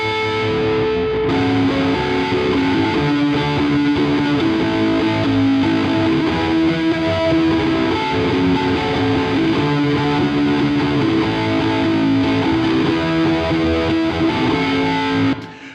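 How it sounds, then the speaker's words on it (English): A ukulele picked up by a piezo pickup is played through a distortion effect, giving a thick, saturated, sustained buzzy tone with strummed chords ringing steadily and loudly throughout. "make it a really distorted ukulele like this."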